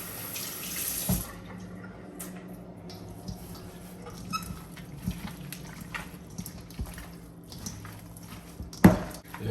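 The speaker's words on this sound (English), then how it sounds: "I'm gonna wash my hand and now rub in the season inside the pork" Water running from a kitchen tap as hands are washed, a steady close splashing stream with soft rubbing and occasional knocks against the sink.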